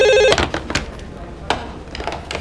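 A telephone rings once with a short electronic tone near the start of a police-drama office scene, followed by clattering handling noises and faint background speech.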